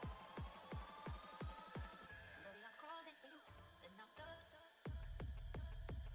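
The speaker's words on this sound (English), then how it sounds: "I guess that's what's making like that ringing noise." An alarm in the SimRail train simulator game rings in a run of rapid repeated strikes, pauses while other tones and noises take over, then resumes sharply near the end.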